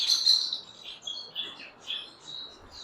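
Pied Fallow and commercial lovebird breeding pairs in cages, with eggs and chicks, give faint high chirps and twitters in scattered short bursts.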